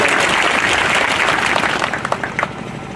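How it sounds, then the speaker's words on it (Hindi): Crowd at a party meeting applauding the chief guest, loud dense clapping that thins out toward the end into a few scattered claps. "इनका जोरदार ताली बजनी चाहिए, मजा आ जाना चाहिए"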